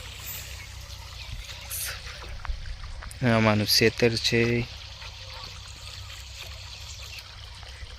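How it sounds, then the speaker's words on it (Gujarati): Water gushing from a pipe into a millet field on an organic farm, a loud burst of pouring and splashing for about a second, with a voice talking before it and quieter outdoor ambience around it. "હા, અમને પાણી આવે છે પાઇપમાંથી।"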